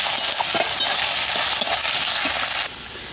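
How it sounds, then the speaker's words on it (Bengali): Garlic and onion paste frying in oil in a pan, a steady dense sizzle with faint scraping and stirring, continuing loud and close before cutting down sharply near the end. "তো রসুনটাকেও ভালো করে ভেজে নেবো, যাতে রসুনের কাঁচা গন্ধটা চলে যায়।"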